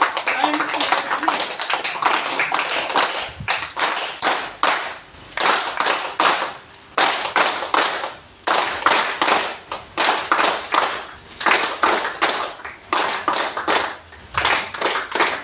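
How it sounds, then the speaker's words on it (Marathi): Audience clapping in three bursts of rhythmic applause at a Nagpur book event, loud and close, the claps coming in steady waves with short pauses between them. "तीन प्रकारच्या टाळ्या"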